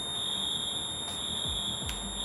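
During apartment fire alarm testing, a smoke alarm sounds a steady high-pitched electronic tone that continues throughout, with a couple of brief sharper chirps over it.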